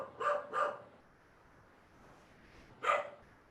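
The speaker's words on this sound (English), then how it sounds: "Are you hearing the neighbor's dog who is chiming in to welcome you to this show" A neighbor's dog barks from a distance, two quick barks then a third after a short pause, faint against quiet outdoor background.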